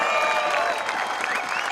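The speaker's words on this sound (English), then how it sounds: "Rotorua, I think we need a little bit of a cheer for Sam Blankenstop right now." A crowd at the 2018 Crankworx Rotorua downhill mountain bike event cheers and claps for rider Sam Blankenstop. The applause is steady and moderately loud, with whistles and cheers rising over it.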